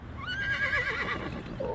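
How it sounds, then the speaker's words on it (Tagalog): A horse whinnies loudly and close by as it comes to a halt on a paved road through a wooded area, a long wavering neigh that fills the whole moment with no talk over it. "Huminto ang kabayo ko at nagtaka naman ako kung bakit."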